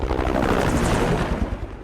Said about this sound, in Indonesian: serta suara helikopter dan mobil polisi